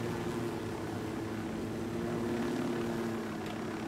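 A helicopter in Ghost Recon Wildlands hovers nearby, its rotor and engine making a steady, dense droning hum with no clear change for the whole stretch.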